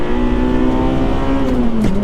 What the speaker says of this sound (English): you can actually hear that engine just roar into something else